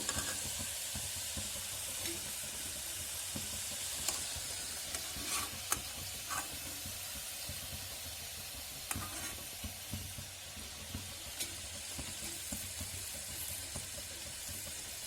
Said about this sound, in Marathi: आपण त्यामध्ये आता या चंपाकळी टाकून घेऊ